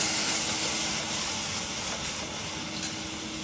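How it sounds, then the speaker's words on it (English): Red Chianti wine poured into a hot pan of blueberry risotto rice, giving a loud, steady sizzling hiss up close that fades slightly toward the end. "Deglaze the wine."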